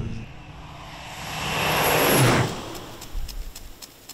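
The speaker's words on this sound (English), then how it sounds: "views from above as nutrients are applied via airplane" A crop-spraying airplane over Idaho potato fields passes overhead, its engine drone swelling to a peak and then fading away.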